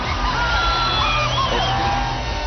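Big stadium crowd at the Celebrity Cricket League final between Telugu Warriors and Karnataka Bulldozers, a steady distant roar of cheering and whoops, sustained and even with no single standout shout.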